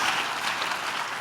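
A brief burst of audience applause, dense steady clapping from a crowd, close and fairly loud.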